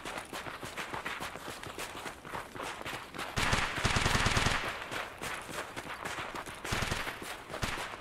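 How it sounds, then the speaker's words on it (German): Gunfire in Escape from Tarkov: bursts of rapid automatic shots crack out in clusters among lighter clattering, with the heaviest volley in the middle and a few more sharp shots near the end. "Schuss. Ist auf uns?"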